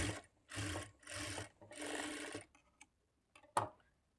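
Sewing machine stitching blouse cloth, folded fabric fed under the needle: three sustained bursts of rapid mechanical whirring with short pauses between, then a few faint clicks and one sharp tap near the end.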